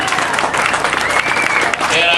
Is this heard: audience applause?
yes